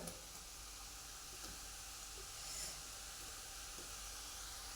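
Peanuts frying in hot oil for a spicy masala peanut snack give a steady, soft hiss and sizzle, faint and even throughout with no voices over it.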